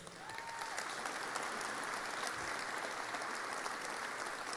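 Sustained applause from an event crowd at a motorsport announcement, a dense, even wash of clapping that holds steady for several seconds without a break.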